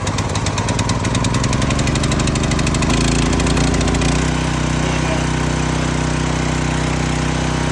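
A Predator 212cc small engine running right after a pull start, a loud, close, rapid mechanical chatter that settles into a steady, even running drone.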